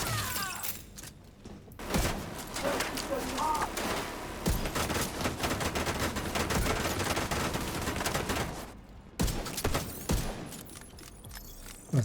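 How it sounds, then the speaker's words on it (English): Sustained rapid gunfire in a shooter game, dense crackling bursts running almost without pause for several seconds, with brief gaps before fire resumes, loud and close. "There's some shooting there."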